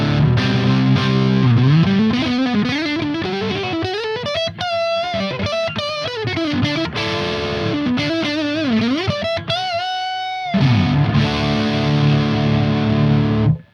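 An electric guitar played through a Ceriatone AH 50 amp gives a heavily distorted, sustained tone that stays clear, with bends and held notes running loud and continuous.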